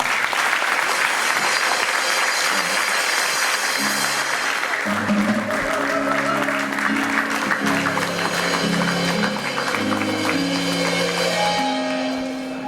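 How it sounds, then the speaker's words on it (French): Applause from a church congregation fills the whole span, loud and continuous, with keyboard or organ music rising underneath from about four seconds on. "On va encourager le pasteur par les applaudissements."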